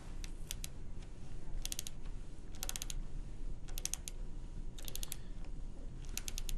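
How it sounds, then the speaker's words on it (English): Manual torque wrench turning a dental implant into bone, giving repeated bursts of fine high clicks in small clusters over a steady low background hum, with no talk. "Now when I remove this manual torque wrench"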